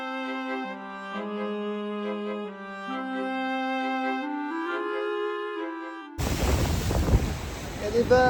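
Waves crash on the beach at Santa Cruz near the boardwalk, a loud rush of surf and wind that cuts in suddenly near the end after a stretch of steady tonal music.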